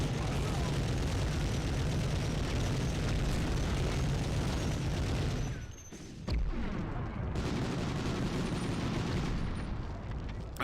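Mounted machine gun in the video game Medal of Honor firing in a long, dense, continuous burst with booming impacts, a brief lull partway, then the rapid fire resumes.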